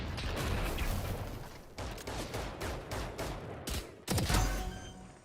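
Video-game gunfire, rapid continuous bursts of shots rattling loudly with brief gaps and a heavier blast near the end, filling the mix without talk.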